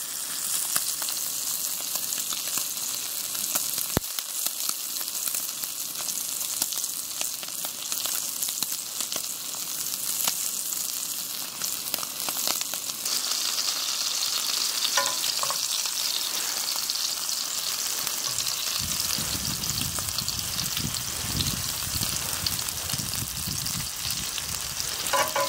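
Small onions frying in a pan sizzle with a steady, close hiss that runs the whole time, then turn denser and more crackly near the end.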